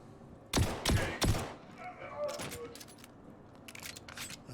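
Shotgun fire in the video game Star Citizen: three sharp blasts in quick succession, then a few more scattered shots further off, all over quiet background noise.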